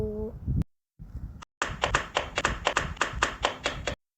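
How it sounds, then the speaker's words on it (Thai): A series of about a dozen quick, evenly spaced knocks strike a door indoors at night, crisp and fairly close, following a short spoken line and a brief silence. "ใครเคาะประตูเนี่ย"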